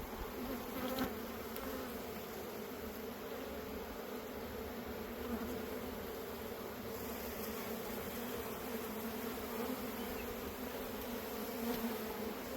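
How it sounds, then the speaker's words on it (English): A ball of honeybees clustered inside an insulated hive hums in a steady, dense drone that holds evenly throughout, close and continuous with no voices. "It's a very good ball of bees."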